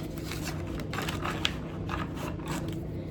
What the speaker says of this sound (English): And I'm gonna shuffle.